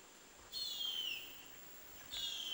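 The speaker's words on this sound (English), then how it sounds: "This is the chirp of the young bird," Out in the Amazon jungle a young bird gives two thin, high, descending whistled chirps, separated by a short pause, faint against quiet forest background.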